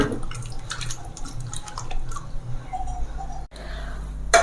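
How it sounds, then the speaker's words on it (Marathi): Yam pieces rinsed in clean water, with close splashing and dripping, sloshing pulses and a brief pause near the end. "स्वच्छ पाण्याने धुवून घ्यायचे आहे"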